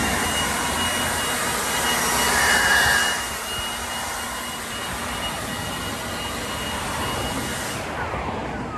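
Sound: blower clearing a driveway crack

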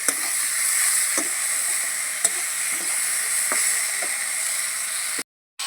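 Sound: spinach greens being stirred and fried in a pan

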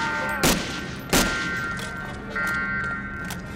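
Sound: gunfire in Medal of Honor: Allied Assault video game

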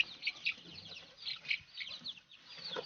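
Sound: chicks

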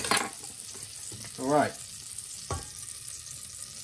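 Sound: sizzling frying in a pan while cooking mushroom risotto

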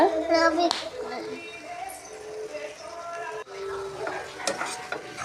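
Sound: stirring egg rice mixture in a pan

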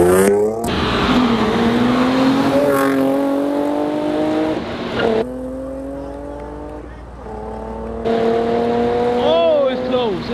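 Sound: street race between a Nissan Z and a Mercedes-Benz

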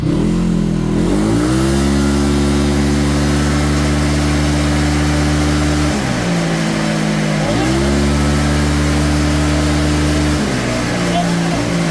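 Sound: motorcycle engine revving at full throttle on dyno bed

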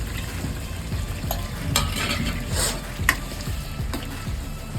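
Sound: bitter gourd added to tomato puree, stirring and sizzling

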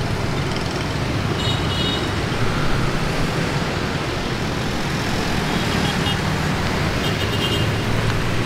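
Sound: street traffic in District 3, Saigon

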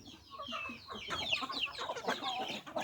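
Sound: chickens clucking

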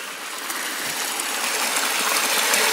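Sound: stream water flowing

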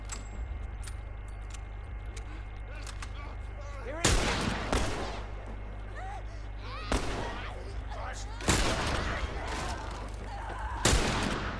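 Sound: rifle gunfire against zombies in The Last of Us video game

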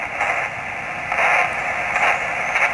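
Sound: radio receive noise from loop antenna while tuning

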